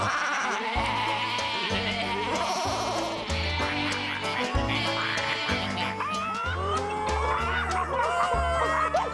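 Cartoon sheep in a farm pen give wavering bleats that rise over a steady, bouncy musical backing.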